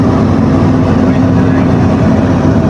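A boat engine drones loud and close, a steady unbroken low rumble that fills the whole stretch without letup.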